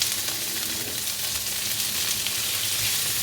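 Vegetables and chopped garlic fry in a pan for egg fried rice, a close, steady, dense sizzle with no breaks.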